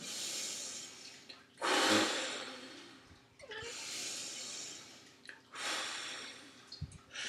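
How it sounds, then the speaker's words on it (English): A runner forcefully blows air out to relieve a side stitch. Three long, rushing, breathy exhales, each lasting about a second or more, sound close and loud with short pauses between them. "now I'm going to blow that air out rapidly and with a bit of force"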